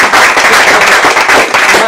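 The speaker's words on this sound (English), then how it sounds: "Just a round of applause for" Audience applause in a room after a talk on memories of 1960s anarchism: a dense, steady wash of clapping that fills the whole stretch at close, loud level, with no voice above it.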